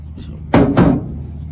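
Two quick metallic hammer blows strike the door catch of a Ford F100 truck, close and loud, with a brief ring after each hit and a faint click just before them.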